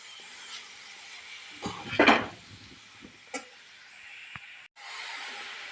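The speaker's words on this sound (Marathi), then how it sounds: "मी सगळा गाजराचा खीस याच्यामध्ये टाकून घेतलेला आहे छान असा एकसारखा परतून घेतो म्हणजे तूप सगळीकडे लागेल" Grated carrot stirred in ghee in a pan for carrot halwa: soft, sparse scraping and clinks of a spoon against the pan, quiet and close, with brief sizzle.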